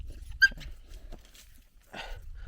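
A dog tied on a rope whimpers in a few short, high-pitched whines with quiet gaps between them, close by and soft, alongside light rustling.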